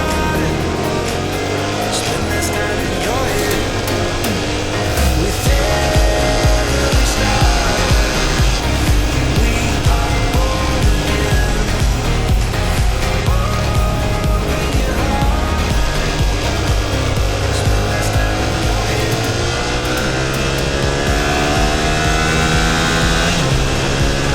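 A Yamaha Ténéré 700 adventure motorcycle on supermoto tyres accelerates hard around a race track, its engine a loud, continuous roar that stays close and steady throughout, with music likely mixed in.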